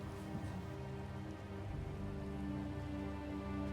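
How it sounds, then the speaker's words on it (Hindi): Steady rain falls in a flood-hit mountain village, a soft continuous patter on surfaces with no talk over it. "अभी बस ये बारिश हो रहा है"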